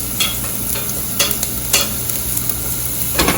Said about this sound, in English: I'm sauteing it until it's translucent.